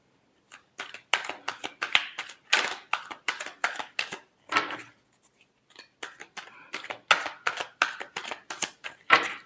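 Tarot cards shuffled by hand in quick rhythmic bursts of crisp papery riffles and slaps, close and distinct, separated by brief near-silent pauses, with no talking.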